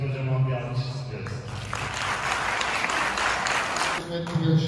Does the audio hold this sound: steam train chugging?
no